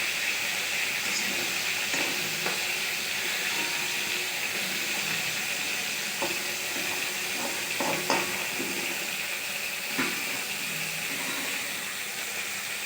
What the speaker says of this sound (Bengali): তো দেখেন আমাদের চিংড়ি মাছটা মোটামুটি ফ্রাই হয়ে যাচ্ছে